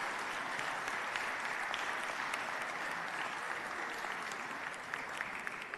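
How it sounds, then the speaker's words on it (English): Dense, even applause from lawmakers and visitors in the Texas House chamber honoring the Harmony School group, sustained and fairly distant throughout without speech. "Let's give them a big round of applause"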